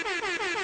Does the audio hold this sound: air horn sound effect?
yes